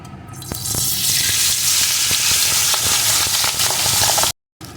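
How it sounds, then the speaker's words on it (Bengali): Pabda fish marinated in salt and turmeric frying in hot mustard oil, a loud, steady, close sizzle that flares up quickly and holds through, broken briefly near the end. "এখন আমি লবণ হলুদ মাখানো মাছগুলোকে প্রথমে এর ভিতরে দিয়ে ভেজে নেব"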